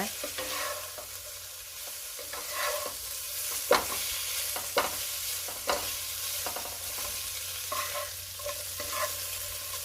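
Century eggs and holy basil leaves stir-fried in a wok, with steady close sizzling broken by a series of sharp scraping strokes of the spatula, about a dozen across the stretch, one especially loud near the middle.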